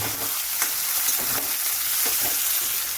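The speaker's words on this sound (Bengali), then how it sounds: "এবার এই পেঁয়াজগুলোকে গোল্ডেন ব্রাউন করে ভেজে নেব।" Sliced onions frying in a pan, a dense, loud, continuous sizzle up close with soft stirring strokes underneath.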